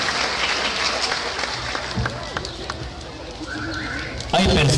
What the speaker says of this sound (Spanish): Que se escuchen esos aplausos, querido público.